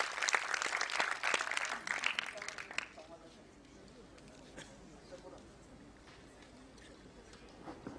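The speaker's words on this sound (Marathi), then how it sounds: "त्याच्याबद्दल जोरदार टाळ्या तिच्यासाठी होऊन जाऊन द्या" A burst of applause from an audience at a world-record recognition event, brisk and loud for about three seconds, then fading to quiet room noise with faint scattered sounds.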